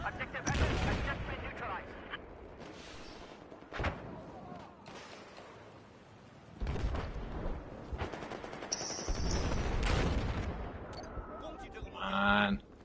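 AK-12 rifle fire in Battlefield 4, several bursts of sharp gunfire separated by pauses, loud and close, with game effects and a voice heard between shots.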